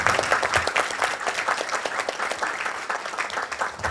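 Steady audience applause after a stage play, many hands clapping densely and fairly loud throughout, with no talking over it.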